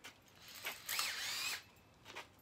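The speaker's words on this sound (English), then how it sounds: "And I'm gonna drill a hole right here." A cordless drill boring a hole in wood while building DIY stall bars, a brief whining burst of about half a second with faint scraping before and after, fairly quiet.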